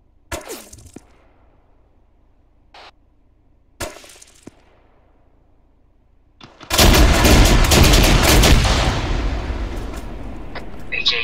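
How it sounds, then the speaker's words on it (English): Gunfire in the military shooter Arma 3: a few scattered distant shots early on, then a sudden loud, dense burst of heavy firing or explosions that sustains and slowly fades. "I hear gunshots"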